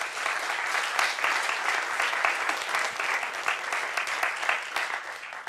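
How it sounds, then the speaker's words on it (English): A conference audience claps loudly and steadily, dense overlapping hand claps filling the hall for several seconds with no voices. "big applause for AuthConf and the volunteers"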